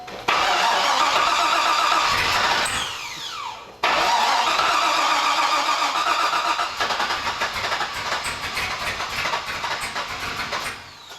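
Corvette engine revving up close, loud and rough, rising in bursts with a brief dip and then sustained throttle that gradually eases off, no talking.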